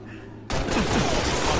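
Halo: Reach gunfire breaks out suddenly after a quiet moment, a loud burst of rapid shots that holds as a dense, continuous volley.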